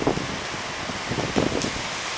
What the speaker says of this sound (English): It's been raining all day, on and off.